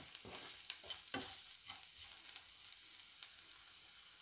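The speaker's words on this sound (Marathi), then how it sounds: "हे सगळे मसाले कांद्यासोबत चांगले परतून घ्यायचे आहेत." Spices sautéing with onions over a low flame, a soft continuous sizzle with intermittent stirring clicks and scrapes, close but fairly quiet, no voices.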